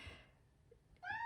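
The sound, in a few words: pet cat meowing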